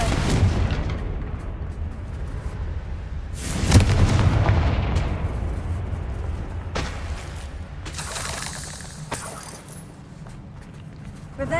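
Confringo fire spell explosions in Hogwarts Legacy: a loud blast lands near the start, a heavier burst hits around four seconds, then a few sharper cracks follow later over a steady rumbling game background.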